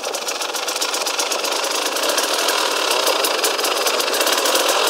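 KTM EXC 300 motorcycle engine running steadily at low throttle during a riding lesson, a continuous buzzy two-stroke drone heard close and fairly loud, with no talking over it.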